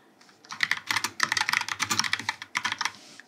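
Rapid typing on a computer keyboard, a steady run of close, crisp key clicks with brief pauses, heard alone with no talking.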